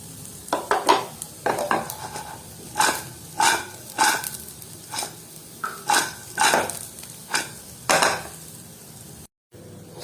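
Dates and other dry fruits being stirred and fried in a pan for laddu, with a rhythmic run of scraping, clattering spoon strokes over a light sizzle, close and fairly loud.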